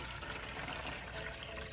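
Water pours into a coffee maker's reservoir as a brief, steady rushing stream, close and unbroken, with no talking.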